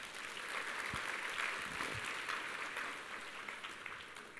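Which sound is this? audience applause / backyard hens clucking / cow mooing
audience applause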